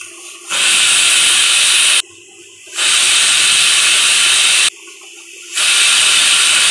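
A pressure cooker on a gas stove whistles three times, each a loud, close hissing blast of escaping steam lasting about one to two seconds, with short quieter gaps between them and no talk.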